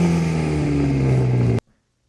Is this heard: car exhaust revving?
yes